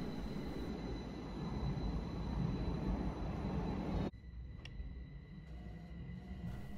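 A Chiyoda Line 16000 series commuter train departs Seijogakuen-mae station, rumbling steadily with rolling wheel noise and a high electrical whine, then the sound drops sharply into a quieter, thinner hum.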